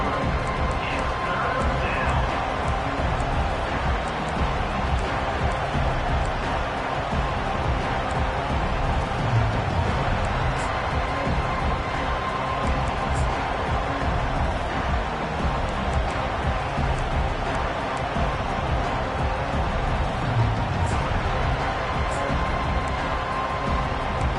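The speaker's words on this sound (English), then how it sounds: "Decibels rising as the crowd gets behind this defense on 3rd down." A college football stadium crowd at Texas A&M versus Oklahoma roars on third down, a dense, steady wall of cheering and noise that holds loud throughout with no breaks.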